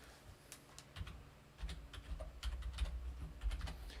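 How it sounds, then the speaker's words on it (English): Rapid, uneven keystrokes on a vintage mechanical keyboard clatter close by at a quiet level, speeding into denser bursts in the second half, with no voices. "One thing I didn't consider when I got a vintage mechanical keyboard is going to make all my typing louder."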